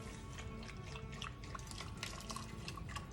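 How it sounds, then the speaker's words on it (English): Sautéed garlic and mint being poured into a yogurt soup for Mediterranean meatballs, a soft wet dripping and splashing that stays faint and steady throughout without talk. "You're gonna add the sauteed garlic with the mint."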